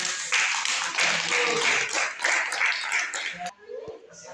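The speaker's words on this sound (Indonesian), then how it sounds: "Kita berikan tepuk tangan untuk kelompoknya." Audience applause for a group at a family-week church worship service, a dense wash of clapping from many hands, fairly loud and close, lasting a few seconds before stopping abruptly, with a faint voice and a tap after it ends.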